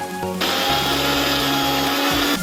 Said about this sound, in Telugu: కొబ్బరి పాల కోసం ఇలా కొబ్బరిని కట్ చేసుకొని మిక్సీ పట్టుకోవాలి